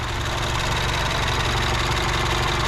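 A MINI Countryman's engine runs steadily at idle after cylinder head work, with the exhaust flap solenoid disconnected, giving a constant close mechanical drone with a faint rhythmic knock and no talking.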